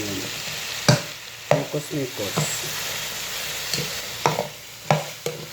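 Ingredients for eggplant with egg and chicken gizzards fry in a pan under steady sizzling, broken by sharp, repeated clacks of a utensil stirring and scraping, with a voice speaking briefly.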